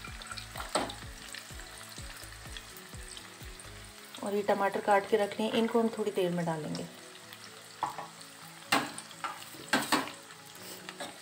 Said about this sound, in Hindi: इनको अच्छे से भूंज लेते हैं चलाते हुए, गैस का फ्लेम तेज कर लेते हैं।